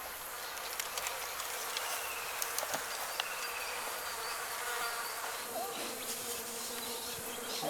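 Insects buzz steadily around a fallen log, a dense, continuous hum with a few brief sharper buzzes passing nearby, heard alone without any voices.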